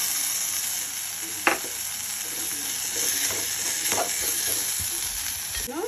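Chopped raw papaya sizzles steadily in a hot pan for a papaya gravy, with a continuous frying hiss and a few sharp clinks of a utensil.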